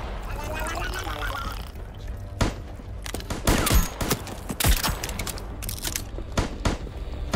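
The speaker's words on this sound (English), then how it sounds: "Are you guys actually shooting at me?" Enemy gunfire in the video game Voidtrain, bursts of shots cracking around the player in rapid clusters, loud and close, mixed with game noise and a speaking voice.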